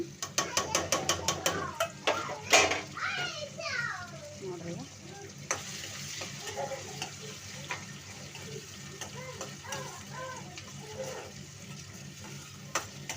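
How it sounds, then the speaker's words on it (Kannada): Tomatoes and chilies fry with eggplant in an oily pan, a soft sizzle under clinks and scrapes of a stirring spoon, with someone talking intermittently. "ಸ್ವಲ್ಪ ಆಗೋ ತನಕ ಸ್ವಲ್ಪ ಫ್ರೈ ಮಾಡ್ಕೊಳ್ಳೋಣ"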